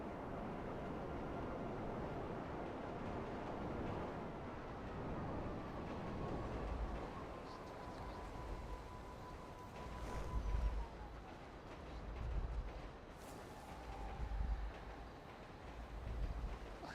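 A train rumbles past at a steady level, with rhythmic low thumps from the wheels on the rails toward the end and a brief tonal whine in the middle, all heard in-game with no voices.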